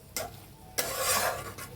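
Homemade chicken pickle being stirred and mixed after lemon juice is added, giving two short bursts of wet, scraping mixing noise with a faint clink of a utensil, close up and with no talking.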